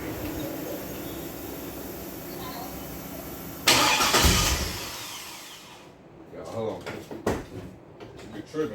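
A car engine cranks over and catches, then revs in a few short bursts, with a loud burst of noise at startup; a person talks nearby.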